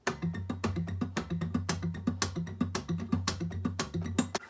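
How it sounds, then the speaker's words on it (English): Acoustic guitar fingerpicking pattern, played close and clean alone, with steady plucked notes over a repeating low thumb bass in a quick, even rhythm. "The picking pattern goes like this."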